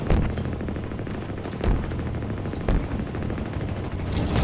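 Sustained rapid turret gunfire in the Halo Infinite multiplayer match, a dense rattling stream of shots with a few heavier booming impacts, steady and loud throughout.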